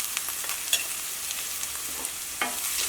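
Turmeric powder frying with sautéed onions in a pan, a steady bright sizzle with a few light clicks and scrapes of a spoon, close and even throughout.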